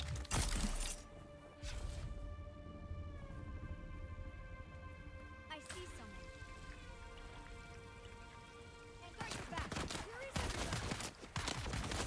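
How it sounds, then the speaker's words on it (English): Gunfire in Dune Awakening comes in sharp bursts: one at the start, one in the middle and a heavier cluster near the end. A low tonal hum carries on between the shots. "Stop shooting me"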